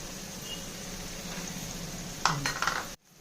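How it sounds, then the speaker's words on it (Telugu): Onion pieces fry in oil in a pan with a soft, steady sizzle, then a brief burst of scraping and utensil clatter near the end before it cuts off, close and quiet. "ఆయిల్ పెట్టుకొని ఉల్లిపాయ ముక్కలు వేయించుకోవాలండి."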